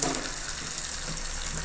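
Water is poured into a pan of manchurian with soy sauce and coriander, giving a faint, brief and steady splashing trickle with no talk over it.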